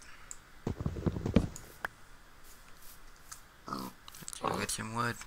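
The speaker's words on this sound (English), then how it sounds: "Stop oinking at me, oinkers." Pig grunting and oinking in the Minecraft video game, a few short snorts near the start and later, mixed with clicking game sounds while a person talks.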